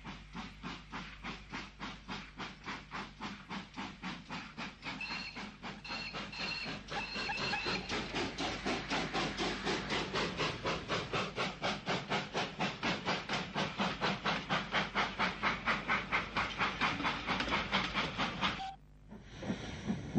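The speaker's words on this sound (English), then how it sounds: "The two locomotives steam off in the direction of Birmingham." Two steam locomotives of the 1950s–60s London Midland and Scottish railway pulling away toward Birmingham, a long, rapid, even chuffing with hissing steam that grows louder and denser before cutting off near the end.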